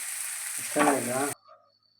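Green chillies and onion hit hot oil in a pan with a sudden loud sizzle, a short burst of crackling frying that cuts off abruptly, followed by faint clinks and near silence.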